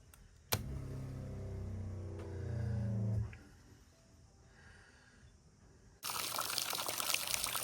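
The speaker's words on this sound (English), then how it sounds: "I'm just about to go and turn the water pressure back on." Water rushes and gurgles through a sailboat's plumbing as pressure returns, a close sputtering flow with air spitting out, falling quieter before a louder steady rush of water starts again, with no talk.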